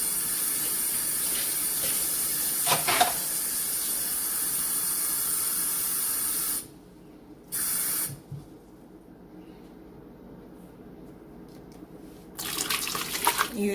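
A tap runs water for a homemade white distilled vinegar cleaner, a bright steady hiss that cuts off partway, spurts briefly, then starts again near the end, close and alone.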